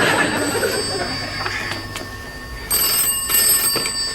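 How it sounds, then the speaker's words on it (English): A telephone rings in an office setting, a couple of bright, bell-like trills with a louder ring toward the end, heard close and alone without speech. "The other phone's going."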